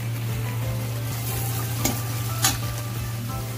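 Chopped tomatoes go into a hot pan of paneer, onion, ginger, garlic and green chilli, setting off a steady close sizzle and frying hiss, with a couple of sharp stirring scrapes partway through.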